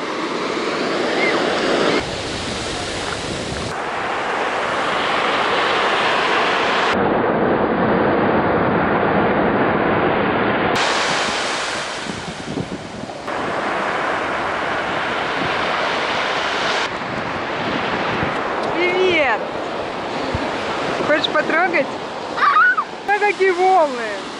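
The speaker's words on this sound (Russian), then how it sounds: "Атлантический океан" Atlantic Ocean surf rolls in as a continuous broad roar of breaking waves with heavy wind buffeting the microphone; voices come through at times.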